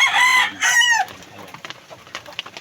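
A rooster crows loudly up close in two bursts, followed by softer scattered clucks from chickens.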